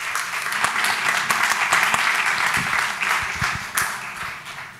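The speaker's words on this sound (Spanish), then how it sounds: "Un aplauso, por favor." A conference audience at a climate and Green New Deal session claps as a speaker is introduced, a dense burst of applause that swells and then tapers over a few seconds.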